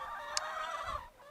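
Free-range chickens in an organic farm shed housing about 150 birds, a close, dense wash of clucking and warbling calls with one brief sharp squawk.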